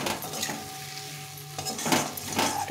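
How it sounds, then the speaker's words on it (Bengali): Fried potatoes and taro being stir-fried in spice masala in a pan, a soft steady sizzle broken by scraping strokes of a spatula, close and moderately quiet, with no talking. "এখন আমি এই যে ভেজে রেখেছিলাম আলু আর কাটি কচু এটা দিয়ে দিলাম। দিয়ে এটার সঙ্গে একটু কষিয়ে নিতে হবে।"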